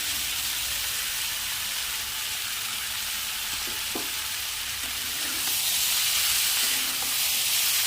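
Fried rice grains go into a hot pan with a steady, fairly quiet sizzle and hiss, a few light scrapes and clinks rising briefly before the frying swells slightly louder toward the end.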